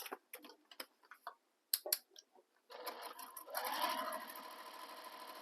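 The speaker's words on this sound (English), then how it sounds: "So top stitch both long edges." A few sharp ticks and clicks come first as a sewing machine is set up, then it top stitches along the long edges of a sling bag in a steady, close, continuous whir.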